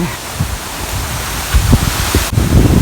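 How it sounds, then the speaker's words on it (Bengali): Heavy afternoon rain pours down in a storm as a loud, dense hiss close by, with a few rustles and thumps scattered through it. "বৃষ্টি আসছে জোরে"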